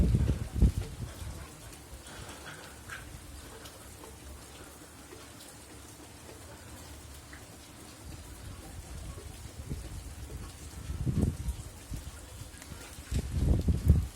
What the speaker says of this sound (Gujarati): વરસાદ પણ ખૂબ જ સરસ છે